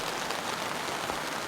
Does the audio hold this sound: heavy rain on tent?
yes